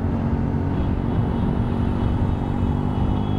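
Motorcycles, a Honda Hornet 2.0 and a Royal Enfield Hunter 350, ride at speed on a road, producing a loud, continuous engine rumble mixed with wind roar that stays steady throughout.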